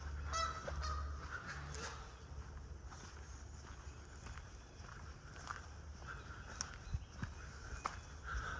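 Geese honk intermittently at a distance along the Chattahoochee River in spring, over a low rumbling background, with scattered faint rustling.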